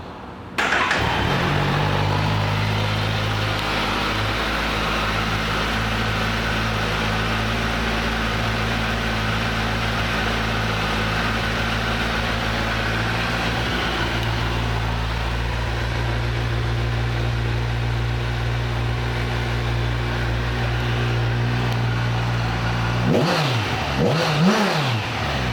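A 2011 Kawasaki Ninja 1000 (ZX1000) motorcycle engine runs close and loud, holding steady revs with sustained droning tones for most of the stretch before cutting off near the end, with no talk.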